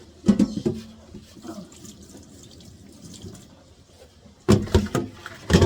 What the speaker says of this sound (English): you add the water in that.